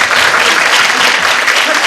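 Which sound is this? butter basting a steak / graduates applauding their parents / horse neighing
graduates applauding their parents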